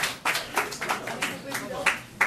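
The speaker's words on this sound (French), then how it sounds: "Applaudissez encore une fois Gary" An audience claps for Gary Klang at a tribute event, a brief burst of scattered applause with uneven clap peaks, heard close alongside talking.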